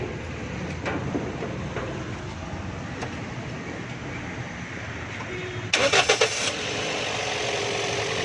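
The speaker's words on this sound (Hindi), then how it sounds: "गाड़ी को स्टार्ट करें ज़रा।" A car whose engine loses power when overtaking is started with its bonnet open: a short burst of cranking catches, then the engine settles into a low, steady idle.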